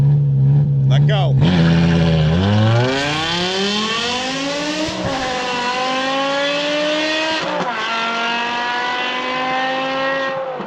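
A tuned BMW M5 V10 with custom exhaust revs hard during a burnout, its loud engine note climbing steeply in pitch through the gears, dropping briefly at each shift and then screaming upward again, close and continuous.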